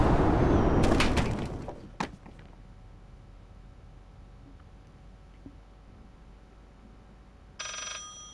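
In the horror video game Layers of Fear, a telephone rings with a brief, bright electronic trill near the end, after a loud crashing burst at the start and a long stretch of quiet, eerie ambience.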